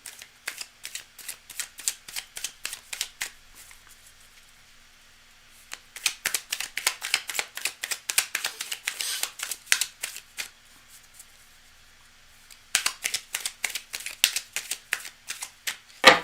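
A deck of tarot cards is shuffled in three long runs of fast, crisp riffling flutters, close and fairly quiet, with short pauses between the runs.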